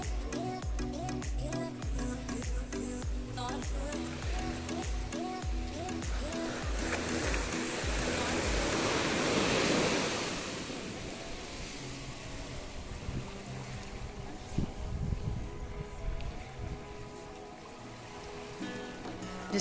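Gentle sea waves wash onto a quiet beach in a sheltered cove at Mahé, Seychelles, with a soft continuous surf hiss that swells briefly midway before settling back to a calm, low wash.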